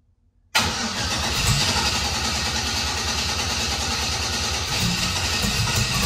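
A turbocharged 5.3 V8 in a Camaro fires up almost immediately after a brief crank, then settles into a loud, steady, lumpy idle up close with no talking.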